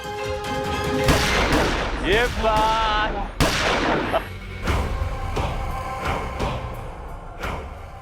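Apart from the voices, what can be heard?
fireworks going off for a brother's wedding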